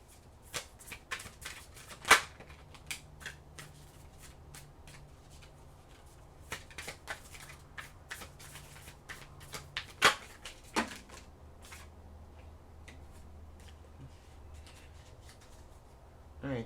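Stiff tarot cards are handled and laid out, with close, soft riffles, slides and sharp snaps scattered irregularly over a quiet background, and a couple of louder flicks.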